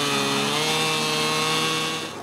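Chainsaw mill cutting wood planks, a loud, sustained buzzing saw with a steady engine tone that eases slightly at the end of a short stretch, heard close up without speech.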